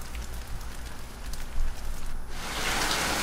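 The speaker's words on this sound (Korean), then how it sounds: "비가 똑똑 내리기 시작했어요." Rain starts to fall with a soft, steady patter, and the hiss swells louder and fuller near the end.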